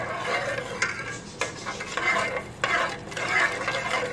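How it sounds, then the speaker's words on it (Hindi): A spoon stirs sugar and water syrup in a pan for sweet vermicelli, with close repeated scraping strokes and occasional metallic taps in an uneven rhythm, no voices. "इसको हम अच्छी तरह मिक्स कर लेंगे, इसका शीरा बना लेंगे। तो हिलाते रहेंगे बराबर।"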